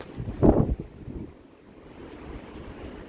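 Open sea seen from the cruise ship AIDA Perla near Belgium: a brief gust of wind and wave noise early on, then a faint, low rushing wash.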